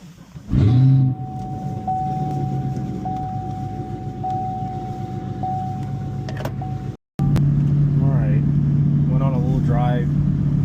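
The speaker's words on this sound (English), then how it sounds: "guess we're gonna go for a drive in the ZL1" Chevrolet Camaro ZL1 driving, its engine a steady mid-pitched drone from inside the cabin, briefly cut off mid-clip before resuming; a person talks over the engine noise.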